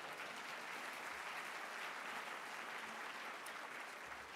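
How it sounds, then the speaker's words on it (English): Sustained audience applause filling a conference hall at an NCRC community reinvestment event, dense and steady clapping from a large crowd with no talk over it. "I think that deserves a round of applause."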